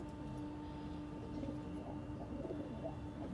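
Soft, low cooing from eight pigeons murmurs steadily against a constant background hum, fairly faint and continuous with no voices.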